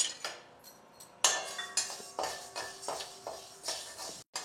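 Urad dal roasting in a pan for Smartha Brahmin-style bisibele bath masala, with repeated clinks and scrapes of a metal spoon against the pan in an irregular rhythm, close and fairly loud, no talk.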